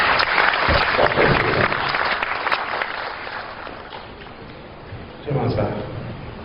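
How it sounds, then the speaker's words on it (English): An audience applauds at a summit opening ceremony, a broad wash of clapping that softens midway and swells again near the end, with a voice talking over it. "I think it deserves a round of applause for that"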